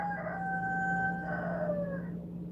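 A rooster crows among backyard chickens, a single drawn-out call lasting about two seconds. It sounds fairly close and clear over a steady low hum, and no one talks.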